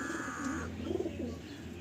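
Giribaj pigeons coo softly and steadily close by, including a red-headed male, a low repeated murmuring with brief faint chirps mixed in.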